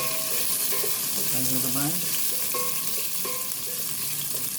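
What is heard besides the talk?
sautéing onion and garlic in a pan, sizzling and stirring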